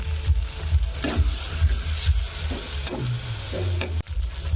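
Spice masala with cashew paste and a splash of water cooks in a pan for a papad curry, a low bubbling sizzle punctuated by rhythmic spatula stirs and knocks against the pan, no voices present.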